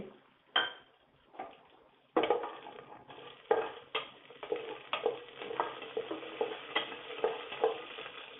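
Mustard seeds and curry leaves spluttering in a little hot oil, with sharp sizzling bursts followed by irregular popping and crackling that grows busier, close and fairly quiet.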